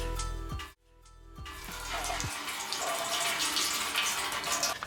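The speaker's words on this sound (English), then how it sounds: "So I just kind of spray the piece down with a little bit of water" Water sprayed from a bottle onto a metal bull skull during a rusting craft project, a few short spritzes followed by a continuous hissing wash of water spreading over the metal.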